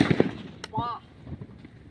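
A firecracker bursts under an oil can with a single sharp, brief bang, close by, amid people talking.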